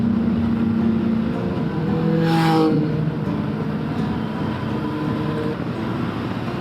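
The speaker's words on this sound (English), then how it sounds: "a load of bikers behind me. Let's let them go past." A group of motorcycles on a road in Spain, heard from a rider's own bike as they come up and pass, a steady engine drone with one brief louder surge swelling and fading mid-way.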